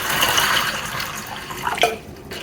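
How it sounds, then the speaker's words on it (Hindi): Tap water splashes steadily into a bowl of dry black chickpeas being rinsed for a spiced chana dish, a close, continuous running pour with a brief louder gush near the end and no talking. "अब इसमें हम पानी डाल देते हैं।"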